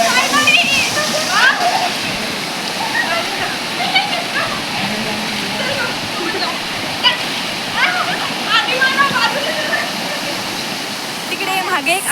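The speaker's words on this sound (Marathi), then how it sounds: "मागे मस्तपैकी धबधबा" A monsoon waterfall roars steadily and loudly for the whole stretch, a dense wash of falling water on green hillsides, with people talking and calling faintly over it.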